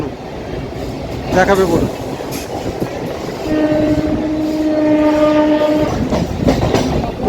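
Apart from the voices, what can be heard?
Kolkata Chakra Rail circular train running, horn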